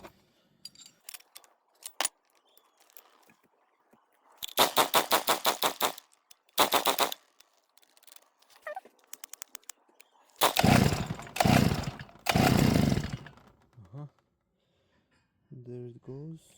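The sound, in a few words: grass trimmer engine starting and running at partial choke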